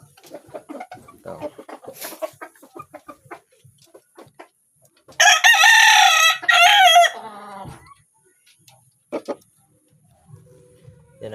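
A backyard hen makes scattered soft clucks, then a loud, drawn-out crowing call breaks out close by in two long bursts. A few quieter clucks follow.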